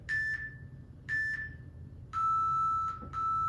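Four electronic beeps from an interval timer during a dumbbell workout: two short high warning tones followed by two longer, lower tones, loud and clear with no talking.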